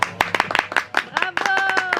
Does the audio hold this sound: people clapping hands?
yes